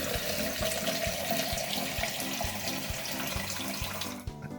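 Tap water runs steadily into a pot, a continuous broadband rush of splashing water filling the vessel, close and alone until it tapers off near the end.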